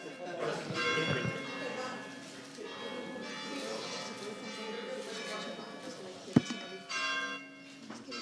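Church bells ring steadily in the distance, their tones lingering, while people talk nearby and a sharp knock sounds once.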